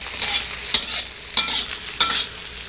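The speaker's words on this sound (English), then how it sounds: "We'll sauté these for a few seconds until all the aromas are impregnated" Green chilies sauté in hot ghee with a bright, close sizzle, broken by three or four sharp scraping stirs at a fairly even pace.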